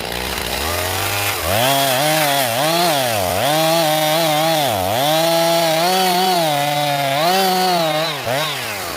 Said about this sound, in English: I just got done cutting down this tree and bucking it up for firewood